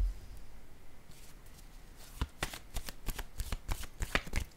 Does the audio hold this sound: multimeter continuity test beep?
no